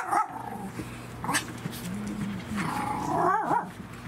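A puppy gives a couple of short, faint yips and barks amid low room noise and soft rustling.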